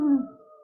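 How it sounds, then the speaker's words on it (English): A single short dog howl rings out from down the street, a brief tonal wail that fades quickly and sounds somewhat distant, with no talking. "Even the dogs down the street don't like it. They're even barking."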